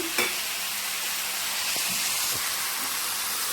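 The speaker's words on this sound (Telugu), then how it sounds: "బఠానీ కుక్ అయ్యేదాకా కుక్ చేసుకుందాం" Peas and tomatoes for pav bhaji cook in a pan with a steady, close hissing sizzle and a few light clinks of stirring, with no voices.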